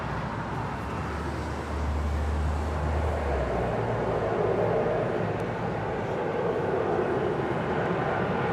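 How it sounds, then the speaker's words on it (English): An Air Canada Airbus A330-300 lands at Los Angeles International Airport, a steady, broad engine rumble with a deep low drone early on, heard at a distance without talk. "This is Air Canada Flight 785 coming in from Toronto, Ontario, Canada on an A330-300."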